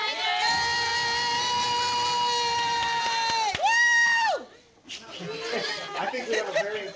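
A schoolroom of elementary children and their teacher cheer loudly over a video call, the teacher's voice standing out as a long sustained shout before a burst of mixed crowd noise.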